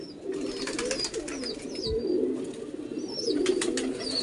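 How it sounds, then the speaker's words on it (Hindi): Pigeons coo repeatedly as they gather to drink water, soft rolling calls close by with a few brief chirps over a steady background hum. "कबूतर पर पानी पीने आ रहे इधर"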